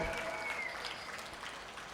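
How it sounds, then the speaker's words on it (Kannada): An audience claps at a live stand-up comedy show during a village fair, a soft, steady patter of applause heard from a distance throughout. "ಇಲ್ಲೆಲ್ಲ ಹೆಣ್ಮಕ್ಳು ಭಾಳ ಚಂದ ಚಪ್ಪಾಳೆ ತಟ್ಟಕತ್ತೀರ"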